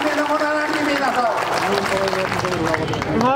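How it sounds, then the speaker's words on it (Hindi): Loud, dense applause from a crowd at an election rally in Gangapur City, Rajasthan, continuous clapping filling the whole moment with no pause. "जोरदार तालियों के साथ स्वागत करें"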